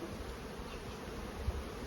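A faint, steady hum of honey bees buzzing low in a nucleus colony hive being fed sugar syrup, a continuous drone with one small bump near the end.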